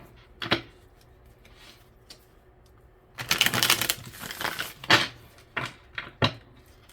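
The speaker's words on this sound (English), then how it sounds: "Shuffle this real good because I reset all my decks." A tarot deck is shuffled by hand in a dense, rustling burst lasting about two seconds, framed by scattered sharp taps and card flicks, close and moderately loud with no talking.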